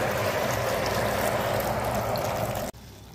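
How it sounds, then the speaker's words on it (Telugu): Tomato curry bubbles steadily in a pan, a soft continuous simmering hiss heard close up with no voices, then it cuts off abruptly near the end. "ఉడుకుతుందండి"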